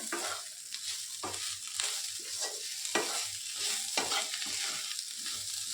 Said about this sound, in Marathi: आता ह्याला बी मिक्स करूया।